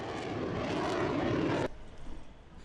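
Aircraft at the Berlin ILA airshow gives a loud, steady broadband roar that cuts off abruptly partway through, leaving quieter background noise.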